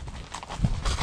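A horse's hooves clip-clop at a walk while being ridden outdoors, a soft uneven rhythm of muffled steps under a low rumble of background noise.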